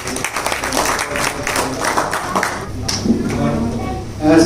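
An audience claps steadily to welcome a speaker at a literary celebration, a dense, sustained burst of many hands that carries through the whole stretch with a slight swell at the end.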